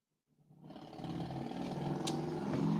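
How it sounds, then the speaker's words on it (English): A motorcycle engine rising out of silence as it approaches, a growling rumble that swells steadily louder over a few seconds, heard from the roadside. "Ah, the sound of a motorcycle, guys."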